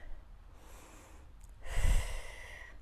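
Heavy breathing during a full-body workout on a foam roller, with a soft breath midway and a louder, close gusty exhale near the end over quiet room tone.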